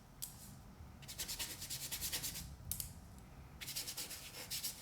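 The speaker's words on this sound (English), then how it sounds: "So I'm just taking this, just kind of scrubbing it in different places, really being random at this point." A paintbrush scrubs paint onto a canvas in a studio, giving soft, close, bristly rubbing strokes in irregular bursts with short pauses between them.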